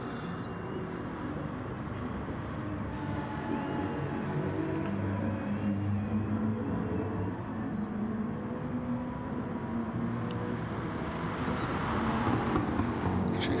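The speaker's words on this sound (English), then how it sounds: "he's the grunt of that AMG engine up the hill" An AMG car's engine grinding uphill in a racing video game: a steady, droning motor tone holds at a constant level for the whole stretch, with no talking.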